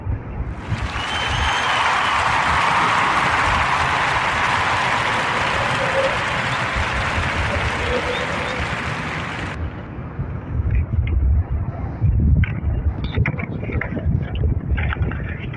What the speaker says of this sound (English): Round of applause for those sisters and their brand.